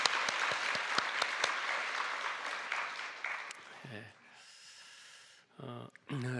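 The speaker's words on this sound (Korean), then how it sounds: "우리 격려의 박수 한번 하겠습니다." A church congregation in a Korean Sunday service applauds the choir, its conductor and its accompanist with a loud burst of clapping that fades after about three seconds, followed by quieter room sounds and brief vocal noises.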